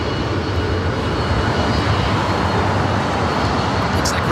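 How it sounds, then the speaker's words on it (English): Steady, loud broadband roar of a 33-year-old Boeing 767-300ER jet airliner at LAX, holding constant for a few seconds with a low rumble and no voices. "Airline flight 763 heading to JFK. 33-year-old 767 at 300 ER."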